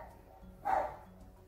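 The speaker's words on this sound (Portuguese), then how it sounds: "Porque esse cachorro não para de latir." A single dog bark, short and moderately loud, breaks out over a quiet room during a tabletop board game session of Lost Ruins of Arnak, with faint background noise before and after.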